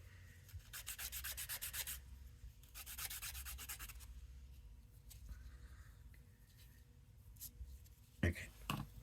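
A colored pencil point is rubbed across sandpaper in bursts of quick back-and-forth scratching strokes, close and fairly quiet, separated by pauses with a low hum and small handling noises.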